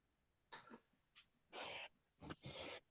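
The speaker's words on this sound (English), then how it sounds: "It's the Rhodesian that's barking." A Rhodesian Ridgeback barks in a few rough, breathy bursts, one short, then two longer and louder, heard fairly near with no talking over them.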